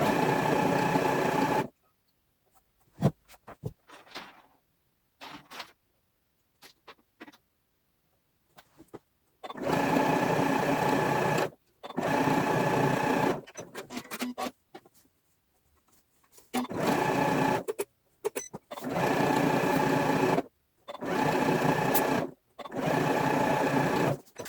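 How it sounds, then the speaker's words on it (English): A sewing machine stitches a flange strip onto contrast fabric at a quarter-inch seam, running in loud, close bursts of a few seconds each, with quiet handling and pauses between runs. "sew at 1/4 inch"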